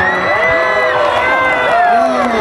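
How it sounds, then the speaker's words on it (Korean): A large outdoor crowd at a K-pop girl group's fan talk during a leisure festival in Chuncheon cheers and shouts loudly and continuously, with voices rising over the din. "박수 보내주시면 감사하겠습니다."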